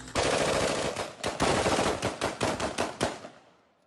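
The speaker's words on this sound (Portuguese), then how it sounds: "traficantes também aparecem atirando para o alto em diferentes pontos do estado" Drug traffickers shoot into the air in Brazil around New Year, a sustained barrage of rapid, loud gunfire with dense automatic bursts and scattered single shots, heard without voices.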